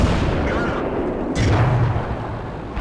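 A single cannon shot from an AT2 tank destroyer firing APCR rounds in World of Tanks: one sharp, heavy boom partway through, set against a steady low engine rumble, with a voice speaking over it.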